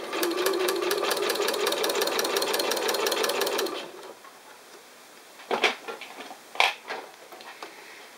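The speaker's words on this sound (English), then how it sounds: "I'm not pulling the fabric through the machine when I get to the curve" A sewing machine stitches fabric with a steady, rapid mechanical chatter for about four seconds, then stops; a few soft handling clicks and rustles follow in the quiet.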